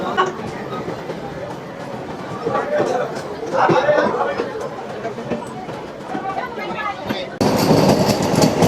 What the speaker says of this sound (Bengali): এসি ট্রেন চলে যাচ্ছে আমাদের পাশ দিয়ে। এটা শিয়ালদা কৃষ্ণনগর এসি লোকাল আমাদের পাশ দিয়ে যাচ্ছে